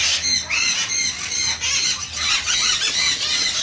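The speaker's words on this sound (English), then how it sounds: "Chickens inside, chickens outside, chickens everywhere." Many chickens cluck and squawk together in a continuous, overlapping chorus, fairly loud and close.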